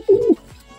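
A single short, close coo from a male racing pigeon, one low rolling note lasting a fraction of a second in a quiet setting.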